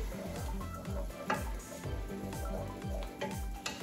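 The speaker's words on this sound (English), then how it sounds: "So I'm frying up my Spaetzle here." Spaetzle frying in a pan with Gruyere cheese, a steady close sizzle with repeated stirring scrapes at a regular rhythm, no talk.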